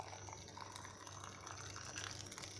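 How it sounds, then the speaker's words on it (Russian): Boiling water poured from a kettle over cucumbers packed in glass jars for pickling, a steady close liquid stream running without pause, with a low hum underneath and no talking. "Уложенные в баночки огурчики заливаем кипятком."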